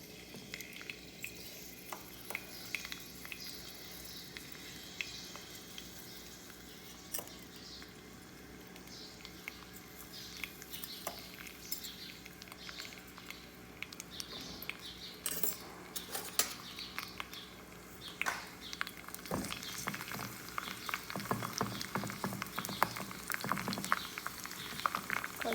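Fresh, slightly green rosemary leaves frying in coconut oil on a stove, a quiet continuous crackle and sizzle with scattered pops and occasional stirring clinks, growing a little busier toward the end.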